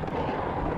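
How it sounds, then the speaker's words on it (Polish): An explosion behind the player in the shooter game Serious Sam: a brief, dense, booming blast with heavy low rumble, loud and filling the short moment, with no talk. "Nie wiem co się stało, ale coś chyba za mną wybuchło."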